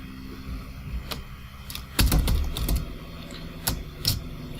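Clicks of a computer keyboard as someone types a line of Python code, a few scattered keystrokes then a denser burst, close and fairly quiet with no talking.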